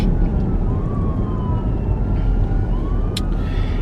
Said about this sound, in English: Ambulance so early on a Sunday morning.